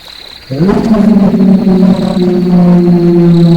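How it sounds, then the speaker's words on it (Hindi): A cartoon giant wolf's deep, sustained growl rumbles low and loud, swelling suddenly and holding steady like a large beast snarling close by. "तभी नदी से एक भयानक विशाल भेड़िया निकलता है"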